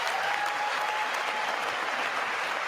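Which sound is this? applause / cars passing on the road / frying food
applause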